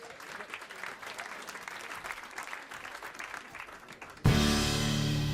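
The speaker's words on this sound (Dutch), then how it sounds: "applaus voor Wiebe" Applause from a Dutch stage audience rolls steadily for about four seconds, then gives way abruptly to loud music.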